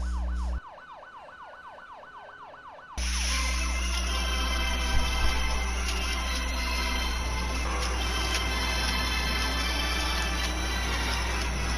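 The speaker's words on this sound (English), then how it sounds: "I even have a goal siren." A goal siren sounds with a brief rising-and-falling wail. It then breaks into a loud, sustained blaring tone that holds steady to the end.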